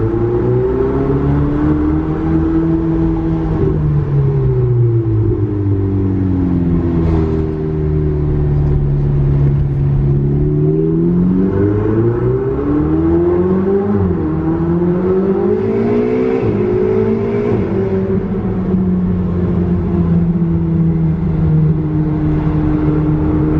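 A powerful Ferrari engine, fitted with a modified exhaust, revs and accelerates, its pitch sweeping up and down through gear changes, loud and close for the whole stretch.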